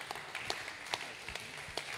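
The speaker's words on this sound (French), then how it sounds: "Merci de l'applaudir." Sparse, faint clapping from a small audience at a talk at the Fête de l'Humanité, individual claps standing out at irregular intervals over a quiet room.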